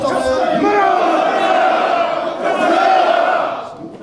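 Crowd of Agent Orange–exposed veterans shouting protest slogans in unison at a press event at the Seoul Press Center, a loud, sustained massed roar of voices.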